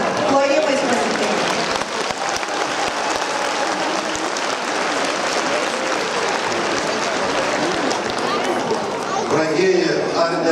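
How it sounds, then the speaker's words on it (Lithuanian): Loud, sustained audience applause fills a hall as a bishop is welcomed onto the stage at a family celebration event, with dense clapping steady throughout and a few voices faintly audible in the crowd. "Prašom, plojimais pasitikti."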